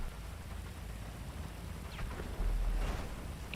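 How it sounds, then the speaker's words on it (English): Rain in a rallycross racing game, a constant soft patter and wash of falling rain with a few brief swooshes and a low rumble near the end, no voices. "Starting to rain."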